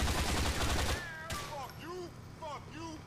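Rapid burst of video game gunfire from Grand Theft Auto 4 opens loud and dense, then gives way to chirpy whistling tones and quieter game sounds as a voice speaks.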